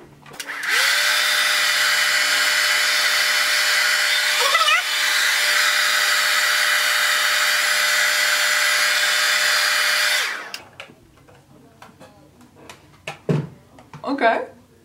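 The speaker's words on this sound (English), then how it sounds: "I got a hairdryer." A hair dryer blows as a loud, steady whir for about ten seconds, then cuts off abruptly, leaving quiet handling noises and a voice speaking afterward.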